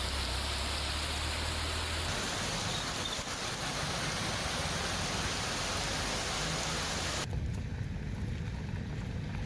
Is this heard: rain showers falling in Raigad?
yes